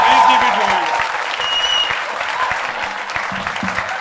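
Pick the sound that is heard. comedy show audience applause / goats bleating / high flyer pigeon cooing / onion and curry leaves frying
comedy show audience applause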